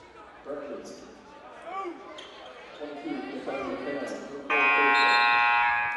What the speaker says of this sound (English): Can't get enough of that buzzer.